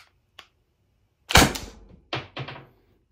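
A Byrna launcher fires a single sharp compressed-gas shot, followed by two quick clacks, all near and crisp in an otherwise quiet space with a faint click just before.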